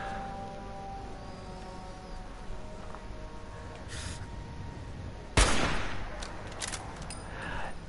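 A single loud gunshot cracks out from a weapon fired at a legendary raider in Fallout 4 survival mode, near and sharp, then fades into a quiet, steady ambient hum.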